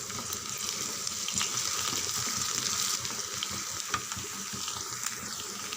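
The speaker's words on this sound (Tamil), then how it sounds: "ரெண்டு நிமிஷம் நல்லா வதங்கட்டும்." Onions, garlic and curry leaves sizzle and fry in oil in a pan, a steady crackling hiss with occasional louder pops and spatula scrapes, close and continuous with no talking.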